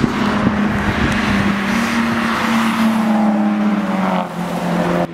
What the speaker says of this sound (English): he was like doing a power skid around the corner.